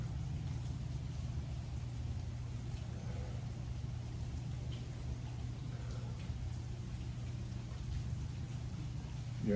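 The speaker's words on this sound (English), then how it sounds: "So we're getting a little bit of rain" Light rain falling outdoors, a steady soft patter with a constant low hum underneath throughout.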